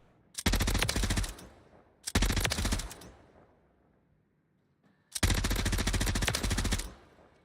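Bursts of rapid automatic rifle fire in a shooter video game, three long sustained volleys separated by short pauses, loud and close.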